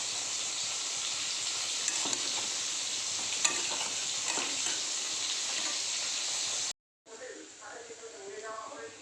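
Onions sizzle and hiss steadily in hot oil in a pan with bitter gourd, a loud close frying roar that cuts off abruptly near the end, followed by quieter sizzling.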